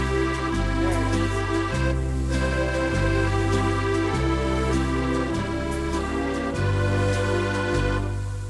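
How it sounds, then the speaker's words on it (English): A keyboard on a French accordion preset plays a steady reedy melody over a rhythmic bass-chord accompaniment, continuous and full, close and without talk. "French accordion"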